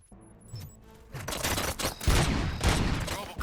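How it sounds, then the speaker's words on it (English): A burst of rapid gunfire in the video game RoboCop: Rogue City erupts after a quiet opening tone, with repeated shots and booms layered into a dense, loud fusillade. "Gunshots? What's going on?"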